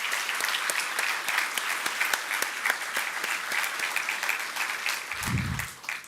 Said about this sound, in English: let's give them a round of applause and thanking them